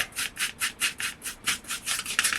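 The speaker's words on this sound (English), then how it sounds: "And then just go to town. Scrubbing up and down." Wet paint brush scrubbing up and down on craft standing stones, a steady series of about ten close, bristly rubbing strokes in an even back-and-forth rhythm, with no voices.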